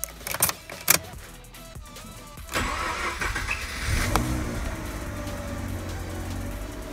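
A Mazda RX8 rotary engine is started after some keys jangle and clunks sound nearby. The starter cranks briefly, then the engine catches and settles into a steady, buzzy idle.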